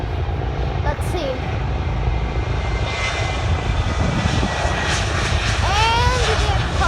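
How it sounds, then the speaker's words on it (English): A Transavia Boeing 737 departs from Rotterdam, its engines roaring loud and steady at a distance, with brief chirps and whistles over the top toward the end. "Now here is that 737 of Transavia departing to Bergerac."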